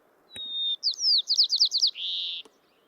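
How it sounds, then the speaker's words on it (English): A white-crowned sparrow sings one clear song: a long whistled opening note, a run of quick buzzy trills, then a final buzz, loud and close, with a sharp click just before and just after. "I'm going to play for you 4 different sounds of white-crowned sparrows"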